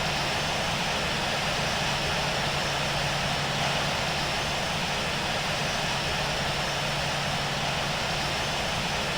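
Kenya Airways Boeing 787-8 jet engines in the Infinite Flight simulator, a steady unbroken whine and roar at moderate level with no change in pitch.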